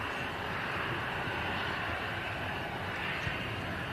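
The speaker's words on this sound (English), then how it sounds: "Another Airbus A330 coming in next." An Airbus A330 approaches to land at Manchester Airport, its engines producing a steady, continuous broadband roar that stays at a constant, moderate distance throughout, with no talk over it.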